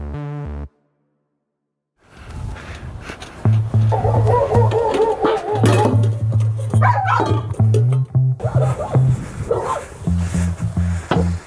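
Very large American Bully male, about a year old and over 160 pounds, barking in loud, deep, repeated bursts up close, with steady rhythmic barking running several seconds after a brief silence.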